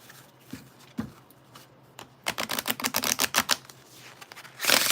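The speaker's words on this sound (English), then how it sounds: "Let me just riffle shuffle these." Tarot cards are riffle shuffled in halves, with a few soft taps followed by a rapid burst of crisp, closely spaced flicks and a final whooshing rush as the stack bridges together.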